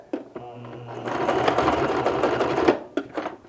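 A sewing machine runs a seam with a narrow allowance on a bottom panel, first slow whirring then a steady rapid stitching burst of about two seconds, stopping with a few short clicks afterward.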